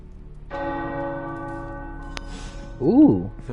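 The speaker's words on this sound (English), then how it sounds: "The tower bells are ringing." Tower bells ring in the video game Marvel Midnight Suns, a sustained metallic toll with long resonant tones, followed by a brief voice near the end.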